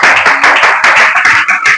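Congregation clapping together in rhythm during a morning church prayer service, a loud, close burst of many hands striking steady beats.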